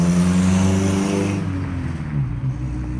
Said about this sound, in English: if you see a faded red truck driving around town sounding like a John Deere runaway zero-turn motor